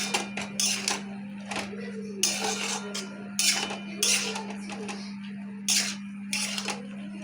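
Metal clatter of a cooking pot and its lid being handled while Bengali pui shaak with prawns simmers. Several short, bright clanks and scrapes come in uneven bursts over a steady hum.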